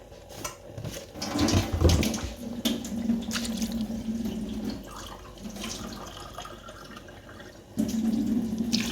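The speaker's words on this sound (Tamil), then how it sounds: "தண்ணி விட போகிறேன்." Water pours into a pot of chicken and eggplant milk curry, splashing and gurgling in uneven bursts with a louder surge near the end, close and alone.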